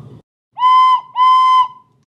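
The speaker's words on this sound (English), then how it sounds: "a familiar whistle sounded out" A steam locomotive whistle sounds twice, two clear sustained tonal blasts in quick succession, loud and close, after a brief low rumble.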